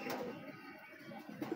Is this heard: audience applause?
no